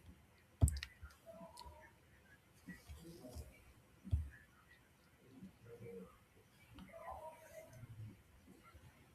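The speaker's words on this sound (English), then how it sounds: "So if I click here" A computer mouse clicks a couple of times at close range while a web page loads, with a person talking intermittently over and between the sharp clicks.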